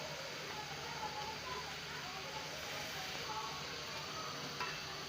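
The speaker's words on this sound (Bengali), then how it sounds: "এটাকে একটু নেড়ে ছেড়ে দিই উলট পুলট করে।" Fish curry is stirred and turned over in a pan on the stove, a soft steady sizzle with light scraping, fairly quiet and close, with no clear speech.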